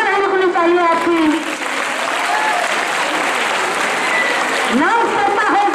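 Audience at a prize distribution function for a general knowledge competition claps steadily, the applause running under a voice and a brief burst of vocal sound near the end.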